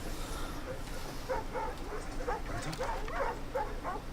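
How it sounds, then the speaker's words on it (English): A regular dog in the Assassin's Creed Origins video game gives a run of short yips and whimpers, moderately near, over a steady bed of in-game ambience. "Oh, just a regular dog."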